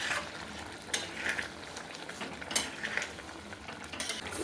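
Soybeans going into a pan of frying potatoes, a soft continuous sizzle with a few sharp clinks and scrapes of a utensil against the pan, fairly quiet and with no talking.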